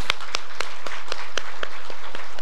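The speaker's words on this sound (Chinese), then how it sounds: "给掌声他们，可不可以？" A small audience at a church service claps for the teenage AV team, a sparse run of about ten separate hand claps in an even rhythm, close and fairly loud.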